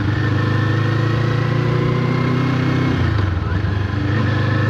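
A 2024 Kawasaki Eliminator motorcycle engine drones steadily and loudly while riding on the street in the morning, a continuous close rumble with a slight shift in tone partway through.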